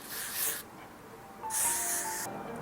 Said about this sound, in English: then we want to use the heat protectant spray once again